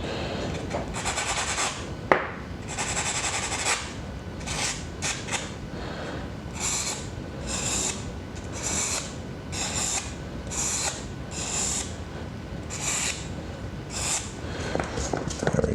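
A fountain pen nib is ground by hand to a fine italic, giving repeated soft raspy strokes, a series of short scraping bursts in an uneven rhythm, close and quiet with faint handling noise.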